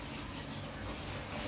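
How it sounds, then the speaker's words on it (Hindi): Tap water runs slowly at low pressure in a home in Jodhpur. A steady, close hiss of the stream continues without break. "पानी जो धीरे आ रहा है ना, उसका एक बहुत बड़ा कारण है"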